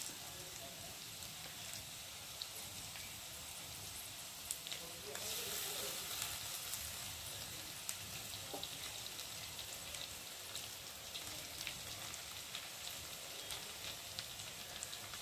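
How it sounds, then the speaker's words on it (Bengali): Beaten egg scrambling in a hot pan for pasta, a continuous close sizzle and crackle with a few small stirring knocks, holding steady throughout. "ডিমটাকে ভালো করে ঝরঝরে করে ভেজে নিলাম।"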